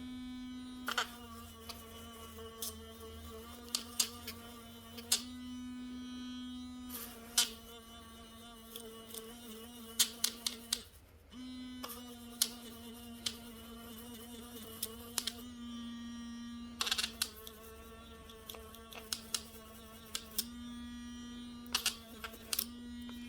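An electric toothbrush scrubs the commutator of a Skylink garage door opener motor, giving a steady close-up buzzing hum broken by frequent sharp ticks and clicks, with no one talking.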